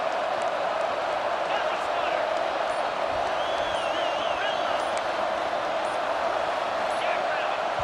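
Stadium crowd roaring near the goal line in College Football 26, pressuring the offense into a false start; a dense sustained cheer fills the space, with faint whistles and whoops rising over it, and no talk.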